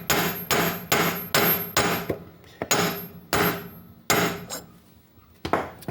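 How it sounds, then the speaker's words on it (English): A drive motor seal on a Bobcat 743 is hammered into place with a series of loud, sharp metallic blows in an uneven rhythm, some in quick pairs, with brief pauses between. "I can start hammering anywhere where I need the seal to go down."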